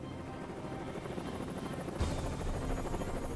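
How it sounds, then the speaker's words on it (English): A US Marine helicopter in flight, its steady rotor drone and engine buzz sounding continuously and fairly close, swelling slightly louder partway through with no talk. "Today, a squadron of Marine helos are deploying to meet the President at a school in New Jersey."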